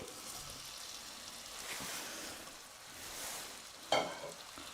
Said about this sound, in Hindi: इसको भी हम हाई फ्लेम पर 1 से 2 मिनट तक भूनेंगे